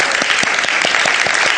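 A studio audience on a Pakistani morning talk show applauds: a brisk, close run of many hands clapping in a fairly even rhythm, loud and unbroken from start to finish.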